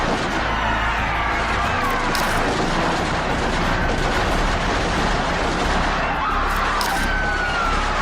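Rapid soldiers' rifle gunfire in a staged Independence Day skit, a dense, loud and continuous clatter of shots and blasts that fills the whole stretch.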